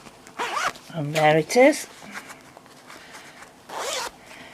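A zipper on a shoulder bag's sewn zip pocket rasps in a few quick pulls, separated by short pauses, while a person talks briefly.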